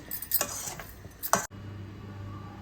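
A spoon stirs mutton and chana dal curry in a pot with a few close scraping clinks over a soft sizzle, then the stirring stops abruptly, leaving a low steady hum; no voices.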